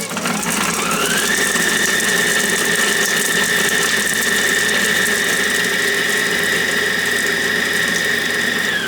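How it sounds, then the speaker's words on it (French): A Companion food processor chops onion pieces at speed 11, its motor whining up in pitch and then holding a loud, steady high-pitched hum for several seconds before stopping. "ensuite je mets en vitesse 11 pendant 10 secondes. Et ça va mixer tout seul."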